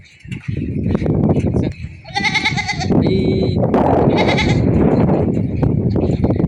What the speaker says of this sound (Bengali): এখানেও ছাগল আছে গাইস